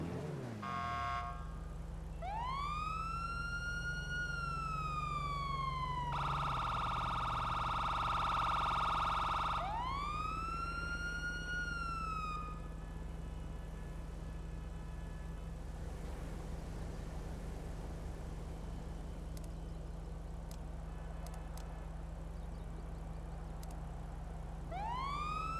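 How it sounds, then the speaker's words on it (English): A police siren from the Coquette D10 Pursuit police car in a video game wails and yelps nearby, rising and falling sweeps with a steady two-tone stretch, over a constant low engine hum. "we'll listen to the sirens that's on the car"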